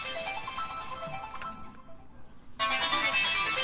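An electronic phone ringtone chimes, pauses briefly, then rings again, moderately loud and close, with no talking.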